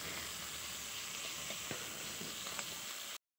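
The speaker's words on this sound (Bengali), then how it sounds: "টমেটোর উপর সামান্য একটু নুন দিয়েছি, তো দিয়ে এটাকে একটু নেড়ে নেব ভালো করে।" Tomatoes with salt being stirred in a frying pan, a soft, steady sizzle with a few light scraping clicks of stirring, heard alone and ending abruptly.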